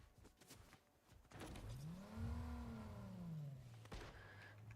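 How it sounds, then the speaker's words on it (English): A car engine in the video game Fortnite revs up and holds a rising, then falling drone for a few seconds, with a faint clatter and rustle around it. "I heard somebody in a car now."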